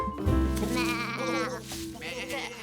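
A cartoon sheep on a farm bleats in one long wavering cry, loud and close, followed by a shorter bleat, with a voice overlapping near the end.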